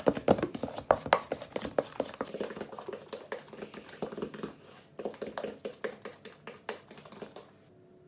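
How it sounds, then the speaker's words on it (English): Brownie batter and eggs beaten briskly by hand, a quick run of sharp clattering taps from a whisk against the bowl, close and fairly quiet, pausing briefly midway before resuming. "by beating it really well and whisking up the eggs"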